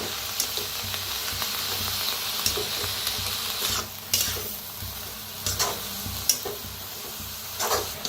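Karadi (safflower) greens being stirred and mixed in a pan, soft scraping and rustling strokes with faint sizzling underneath, steady and close with a few sharper clinks of the utensil.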